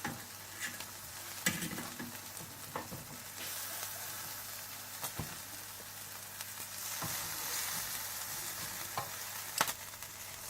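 Mutton chops sizzle steadily on a grill, a continuous close frying hiss with occasional sharp pops and crackles and no voices.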